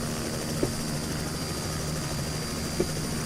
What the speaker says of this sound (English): If I can manage to not lose control of my helicopter, we can take a look at these boarding gates.